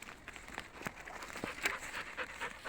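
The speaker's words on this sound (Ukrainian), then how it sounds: "собаки наші теж гуляють" Dogs pant quickly and unevenly while walking through a forest on a mushroom-picking outing, with close, rhythmic breathing mixed with soft rustling and footsteps.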